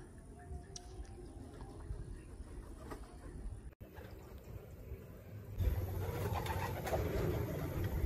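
Pigeons cooing faintly outdoors at a loft in Tuguegarao, soft low calls under rustling and background noise, with a louder burst of activity near the end.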